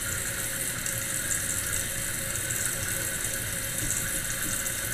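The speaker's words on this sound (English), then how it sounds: "it takes forever for your toilet tank to fill up" Kohler toilet tank refilling with water after a flush: a steady, unbroken rushing hiss of flowing water, close and alone without any talk.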